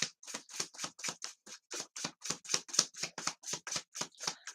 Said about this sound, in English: let's get these new cards ready for our shuffle